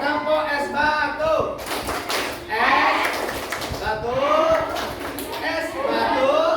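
A group does the ice cube clap (tepuk es batu), with rhythmic claps and thumps under loud chanting voices that carry through the whole stretch.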